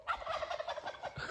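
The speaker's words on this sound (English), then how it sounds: "And we just heard some turkeys down there." Wild turkeys gobble in a brief, rapid rattling burst from a distance, faint on a backpacking trail, with no talking.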